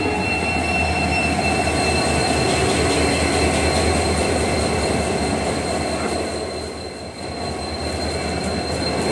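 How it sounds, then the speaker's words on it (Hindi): The Udaipur City–Asarwa Intercity Express rolls into Asarwa railway station with a steady rumble of wagons and high, sustained wheel squeal. The train is loud and close throughout and eases slightly near the end. "और अपनी ट्रेन आ चुकी है"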